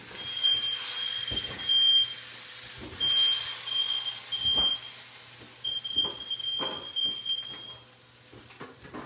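A smoke alarm set off by smoke from burning parchment paper during cooking chirps in a series of short, high, piercing beeps. It repeats in uneven bursts over kitchen thumps and clatter, without speech.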